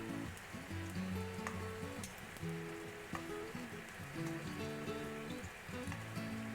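Shrimp sizzle gently in a hot pan while being cooked for a poke rice bowl, a soft, continuous crackle heard faintly beneath a background melody.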